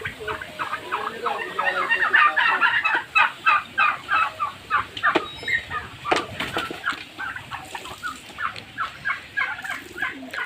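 Hybrid poultry, turkeys among them, are fed greens and crowd close, a busy chorus of rapid clucking and gobbling calls in quick bursts with occasional wing flaps.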